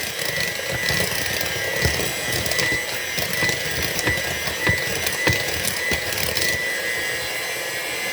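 A mixer churns steadily through pound cake batter as five room-temperature eggs are beaten in, a continuous close whir with scattered clatter from the bowl throughout.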